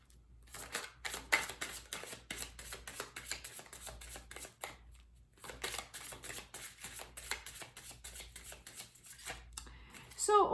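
Oracle cards are shuffled by hand close up: bursts of crisp rustling and soft slaps come in uneven runs, broken by short pauses.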